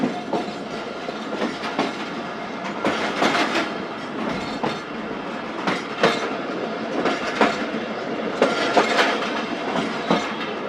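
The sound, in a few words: Thal Express train travelling through the mountains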